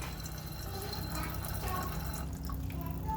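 Weak trickle of water from a kitchen sink tap at home with low pipe pressure, a faint, steady running and dripping sound, fairly close and quiet, with no talking during it.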